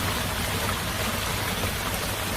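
Heavy rain pouring steadily at night, a dense, even hiss of falling water that fills the whole moment without pause.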